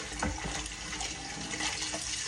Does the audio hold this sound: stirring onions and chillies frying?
no